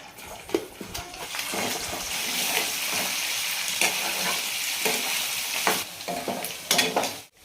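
Boiled chicken pieces sizzle and fry in hot oil in a pot for pickle, a loud continuous crackle broken by stirring clatter.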